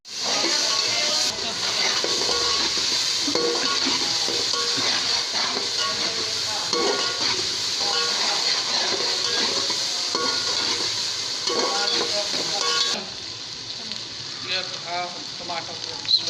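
Oil hissing and sizzling in a pan while aloo phaliyan is cooked with onions, tomatoes and ground spices, a steady close crackle with someone talking over it, and the sizzle easing near the end.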